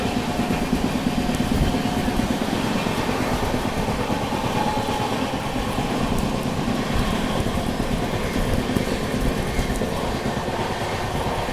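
Steady, loud rumble and rattle of the Bhubaneswar Duronto Express running on rails, heard from inside the moving train, continuous and unbroken with no talk.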